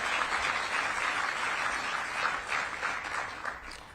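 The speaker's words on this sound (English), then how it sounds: "Let's give her a round of applause for all her efforts and work." An audience applauds DC Mayor Muriel Bowser at a public launch event, a steady, fairly dense wash of clapping that holds evenly throughout with no voices over it.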